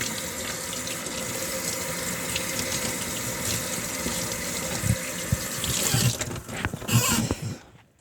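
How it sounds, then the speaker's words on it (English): Hot tap water runs steadily into a sink while something is washed, a continuous gushing stream with splashes and shifting flow toward the end, no voices over it. "I don't mind washing this now with hot water"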